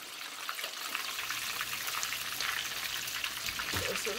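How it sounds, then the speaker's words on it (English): Hot oil hisses and drips as fried chicken wings drain, a steady close crackle with a trickling patter and a faint voice near the end. "Drain the oil."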